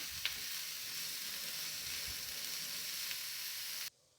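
Onions lightly sautéing in a pan make a steady, even sizzle up close, with faint occasional clicks before the sound cuts off abruptly near the end.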